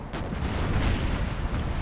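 Continuous heavy cannon fire from a ship's broadside in Empire Total War, a dense, loud rumbling barrage of booms overlapping with no gaps and no voices.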